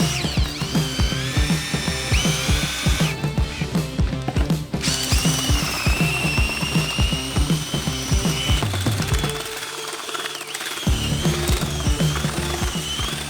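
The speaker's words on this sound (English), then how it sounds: "here's our inexpensive drill" An inexpensive cordless drill spins at high speed while mixing concrete, giving a loud, steady whirring drone with rhythmic grinding and rattling pulses throughout, briefly easing near the end.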